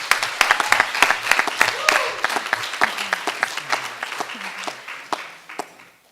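An audience at a student organizing event applauds spoken word performers. Many individual sharp claps rattle together at close range, then gradually thin out and fade over several seconds.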